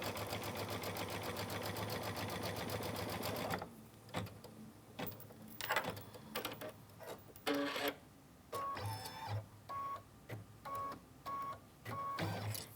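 A computerized embroidery sewing machine stitches tack-down lines on quilt fabric, opening with a dense whirring run and then stopping and starting in short mechanical bursts, close and clear.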